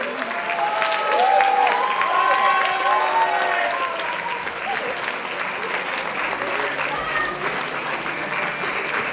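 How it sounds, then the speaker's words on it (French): An audience claps steadily for cosplayers at a convention costume contest, a broad continuous wash of applause with cheering voices and calls mixed in, fading slightly toward the end. "Allez vers votre cher public qui vous attend, applaudis toute cette journée. Allez hop, on y va, applaudissez-les"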